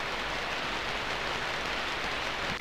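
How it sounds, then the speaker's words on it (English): Steady, hissing video game rain pours down evenly without a break, with no voices or other sounds over it. "Just keeps on raining"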